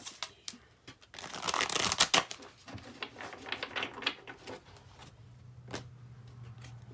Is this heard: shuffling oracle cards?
yes